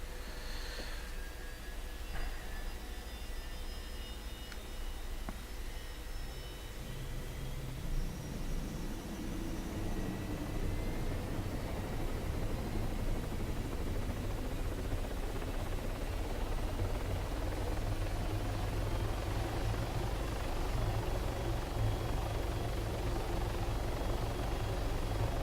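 Helicopter engine and rotor whine in the ArmA 3 video game, a steady broad roar with a low rotor throb that swells and thickens partway through after a brief bump, continuous and fairly loud throughout.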